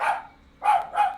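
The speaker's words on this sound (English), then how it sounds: "Sorry for the barking. The pizza delivery guy's here," A pet dog barks three times, loud and fairly close, reacting to a pizza delivery at the house, with a short pause after the first bark and no talking.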